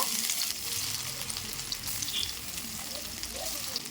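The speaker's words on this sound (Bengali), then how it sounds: "একটা একটা করে পিস তেলের মধ্যে দিয়ে ভালো করে কিন্তু ভেজে নেব" Egg and cabbage pieces frying in hot white oil in a wok, giving a steady, dense sizzle that carries on unbroken at close range with no voices.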